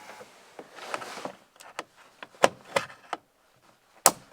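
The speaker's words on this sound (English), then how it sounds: "It made a definitive click once it got right around and on its hole where it should be" A latch mechanism on a Honda Odyssey sliding door clicks into place during repair work, with several sharp, close clicks and knocks spread over a few seconds against quiet handling noise.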